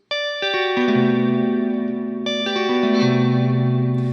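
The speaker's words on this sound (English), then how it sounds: "So we're gonna have 4 fingers fretting on the fretboard, tapping, and the thumb changing the bass note." Electric guitar plays four-finger tapped chords with the thumb changing the bass note, with a shimmering, chorus-like effect, sustained and ringing, changing chords twice; loud, close, no voices.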